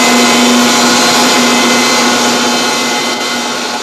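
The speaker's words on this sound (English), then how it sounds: "Guided by a cam, the shape is milled in the stone in a single pass." A cam-guided milling cutter with 20 diamond segments shapes stone in a single pass, giving a loud, steady grinding whine with a strong constant tone that holds for the whole stretch.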